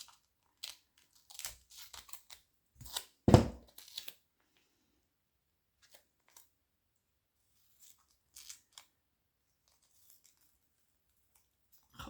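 Scissors cut paper for a junk journal in a few short, crisp snips and crackles, with one louder crunch, followed by long quiet gaps and scattered faint rustles.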